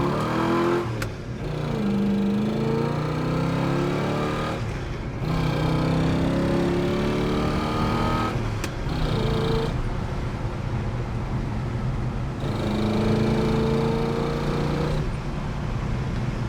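A 1967 Pontiac GTO engine runs loud and continuous while driving. It rises and falls in pitch through gear changes and acceleration, with a steady road rumble underneath and brief dips between shifts.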